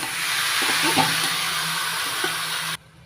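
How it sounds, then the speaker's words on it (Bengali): Boiled, drained banana flower goes into a pan of frying spiced potatoes, giving a steady close hiss and sizzle with a few soft stirring knocks, before the sound drops away sharply at the end. "এবার দিয়ে দিচ্ছি সেদ্ধ করে জল ঝরিয়ে নেওয়া মোচা।"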